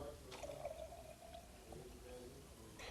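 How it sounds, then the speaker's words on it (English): About 200 cc of distilled water is poured into a lab sample: a quiet, steady trickle with faint drips and small splashes, heard close up in a hushed room. "now I can put 200 cc's of distilled water"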